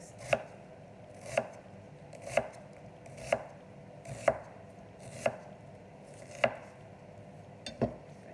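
A knife slices through vegetables on a cutting board for a vegan risotto and Greek salad, landing eight sharp, evenly spaced chops about a second apart, close and distinct over a quiet room.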